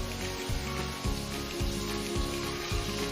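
Potato, eggplant and carrot fry in a pan with a steady sizzle, and a louder burst of crackling returns every half second or so as the vegetables are stirred.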